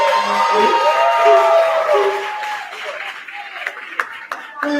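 Applause and cheering from a crowd at a promotion day and graduation ceremony, honoring Kanaya Muhammad: loud voices and shouting over clapping at first, then scattered sharper claps as the noise thins out.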